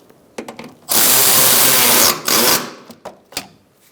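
A power tool whirs for about two seconds while tightening a fastener during windshield washer reservoir work on a 2002-2006 Toyota Camry, with clicks and handling knocks before and after.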